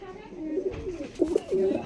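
Pigeons cooing in a home loft, soft low coos rising near the end, with a person talking quietly under them.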